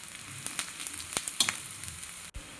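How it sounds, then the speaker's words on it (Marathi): Onion sautés in a pan while green peas chutney is prepared, with a soft sizzle punctuated by several sharp crackles and stirring scrapes. The sound is faint and close, with a brief dropout near the end. "कांदाही आपला छान परतत आलेला आहे।"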